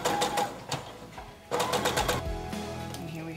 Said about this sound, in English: it's just a long straight stitch on my sewing machine